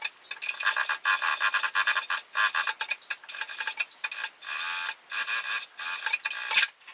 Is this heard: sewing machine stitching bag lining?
yes